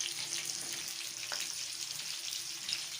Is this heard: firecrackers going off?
no